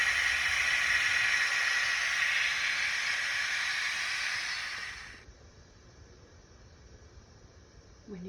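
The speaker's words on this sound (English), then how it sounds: "When you hear your steam release, you're going to remove the lid" Loud, steady hiss of steam venting from a pressure cooker while cooking charro beans, lasting about five seconds before cutting off abruptly and leaving quiet room tone.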